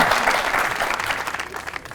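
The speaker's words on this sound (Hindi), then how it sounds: "अगर आप चाहते हैं सुनना तो प्लीज ताली बजाइए।" A studio audience at a Pakistani comedy talk show claps loudly and continuously, a dense wash of applause filling the whole moment.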